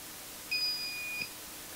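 Continuity checker probing one leg of a bridge rectifier on a Honeywell Home Pro Series TH6320WF2003 thermostat board gives a thin, high electronic beep lasting about a second, close and clear, with no talk.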